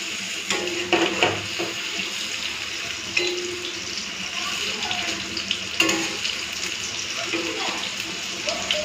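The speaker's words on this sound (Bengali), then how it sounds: "এরপরে ভালো করে বড়াগুলোকে লালচে করে ভেজে নেব" Small shrimp fritters fry in hot oil, a steady close bubbling sizzle with occasional louder clatter from turning or stirring, and some brief talk in the background.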